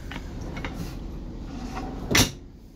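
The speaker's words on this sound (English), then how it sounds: "Does have storage down below. A couple of these drawers." Storage drawers beneath a booth dinette in a 2012 Tiffin Allegro Bus 43QGP diesel pusher RV slide and bump shut, with a few soft knocks and then one sharp, louder clunk near the end, close by in a quiet interior.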